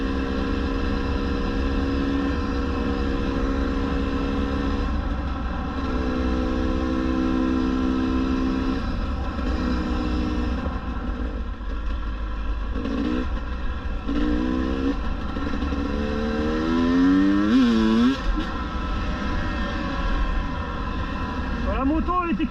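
A GasGas EC 300 enduro motorcycle from 2022, ridden in hard enduro terrain, holds a steady close engine drone whose revs rise and fall in several sweeps, with someone talking over it throughout.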